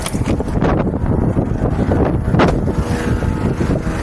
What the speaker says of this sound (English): it's windy as assholes out here